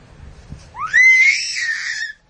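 A person lets out a high, drawn-out scream instead of a whistle. The pitch sweeps upward and holds for over a second, loud and close, after faint low background noise.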